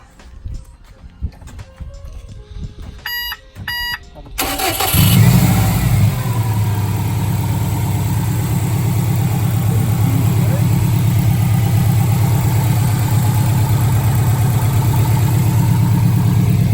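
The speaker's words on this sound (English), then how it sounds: "Now you start the car up and find you've got several misfires." A Subaru car engine with several misfires cranks and catches after a few quiet seconds, then settles into a steady, loud, slightly uneven idle that runs on.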